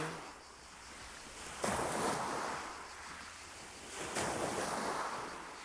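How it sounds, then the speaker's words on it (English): Adriatic Sea waves wash in a steady roar with two louder breaking surges a couple of seconds apart, mixed with wind noise and no voices. "Just amplifying the frequencies of those waves of the water, the Adriatic Sea"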